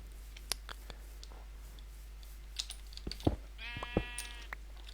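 A Minecraft sheep gives one wavering bleat near the end. Scattered mouse or keyboard clicks and a low steady hum run under it.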